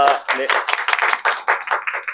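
An audience gathered for a Bible study claps hands in a brisk, fairly loud burst of distinct, rapid claps that keeps going steadily, with a brief spoken word heard at the start.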